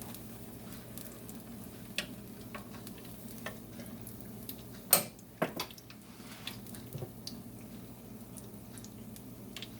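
Korean corn dogs with batter fry in hot oil, giving a low, steady bubbling sizzle with scattered pops and ticks and a couple of louder clicks from a utensil midway, close and quiet.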